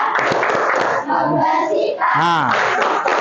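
A group of children performing the rhythmic zakat clap chant in a classroom: loud chanted voices in unison, punctuated by sharp, synchronized claps at intervals.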